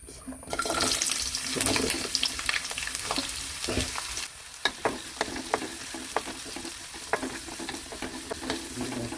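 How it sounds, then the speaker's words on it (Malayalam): Small onions, or shallots, sauté in oil for a chicken roast, with a loud continuous sizzle and repeated sharp spoon taps and scrapes against the pan close by. "ഇനി നമുക്ക് ചെറിയ ഉള്ളി ഒന്ന് വഴറ്റിയെടുക്കുക എണ്ണയിൽ തന്നെ"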